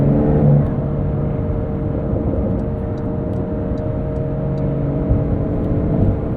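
A 2023 Porsche 911 Dakar drives along on a daily commute, its engine holding a steady, moderately loud hum with a faint rise near the end, heard from inside the car with no talking.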